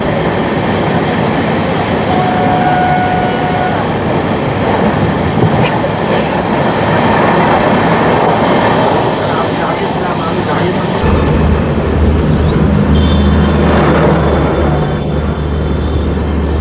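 Steady rumble and rattle of an Indian express train running on the rails between Saharsa and Madhubani, heard from inside a crowded sleeper coach, loud and continuous, with a deeper, heavier rolling tone and faint squeals in the final seconds.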